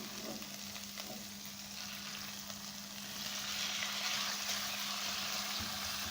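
Chicken frying in oil over a medium flame gives a continuous soft sizzle, growing a little louder partway through, with a faint hum underneath and no voices.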